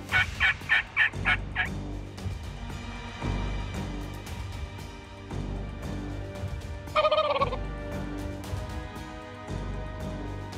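Two male wild turkeys gobble: a rapid loud gobble at the start, then another clear gobble midway, heard outdoors against a steady background hiss.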